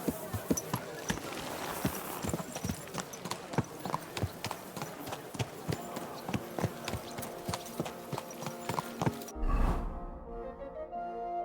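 Horse hooves clip-clop at a steady walking pace on hard ground in Kingdom Come: Deliverance 2, the evenly spaced thuds running for several seconds before stopping, with a brief snort or rustle at the end.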